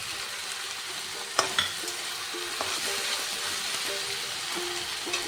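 Small fish fry in a pan with ginger leaves added, a steady soft sizzle broken by a few sharp pops and crackles, close and alone without talk.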